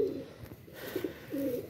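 A high-flyer pigeon gives soft, low cooing calls, two or three short coos close by against a quiet background hum.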